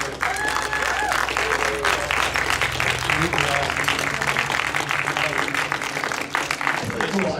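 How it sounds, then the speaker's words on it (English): An audience gives Jim a round of applause, with steady, full clapping that holds throughout and a few voices and cheers mixed in under it. "give Jim a round of applause for it"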